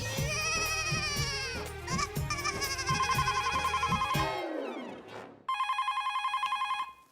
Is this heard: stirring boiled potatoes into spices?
no